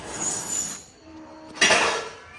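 A metal cooking pot is lifted and set down on a home kitchen counter, giving a soft clatter followed by a sharper, ringing metallic clink near the end.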